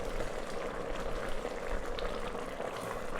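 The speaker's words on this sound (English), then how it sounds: "It is simmering pretty hard" A chickpea and sweet potato curry simmering hard in a pot makes a dense, continuous bubbling and gurgling, steady and fairly quiet, close by with no talk.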